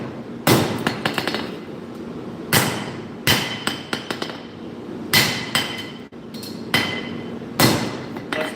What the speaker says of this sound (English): There are some things I'd still want to use a hand hammer for, even if I had a power hammer.